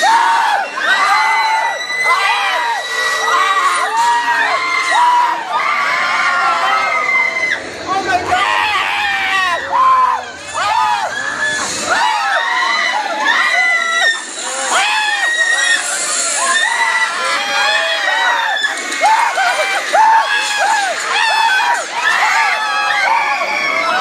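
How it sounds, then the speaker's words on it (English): Many riders scream and shriek on a theme park ride, a dense, loud chorus of overlapping high-pitched yells and whoops that continues nearly nonstop, with brief dips between surges. "Oh, well, there's people screaming."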